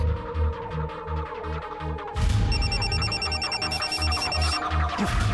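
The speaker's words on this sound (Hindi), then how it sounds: "फोन किसका आया था?" A telephone rings with repeated electronic trills in bursts, loud and close, over a steady low throbbing background at a roadside village dhaba.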